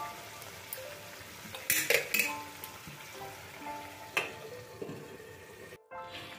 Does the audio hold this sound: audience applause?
no